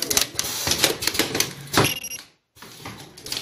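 An ultrasonic U-shape top stop machine works on a nylon zipper with rapid mechanical clatter and tapping. The noise cuts out briefly, then resumes at a close, fairly loud level.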